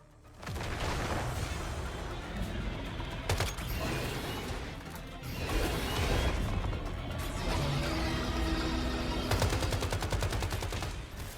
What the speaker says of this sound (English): Simply shoot them till they pop.